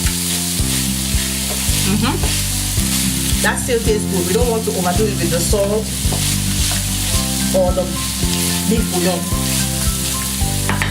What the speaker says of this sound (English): just continue stir frying for just about a minute